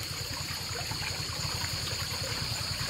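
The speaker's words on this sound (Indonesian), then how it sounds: "Aku berada di pinggir kali, di dekat rumah, dan suara gemericik air terdengar cukup jelas" A small stream running beside a house at night gives a steady, close trickle and gurgle of water, continuous and even throughout, with no voices.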